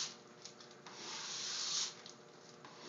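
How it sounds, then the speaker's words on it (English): A plastic scraper drags across a waxed snowboard base, making a close, continuous rasping hiss that swells in the middle of the stroke and then fades. "you want to apply even pressure all along the scraper"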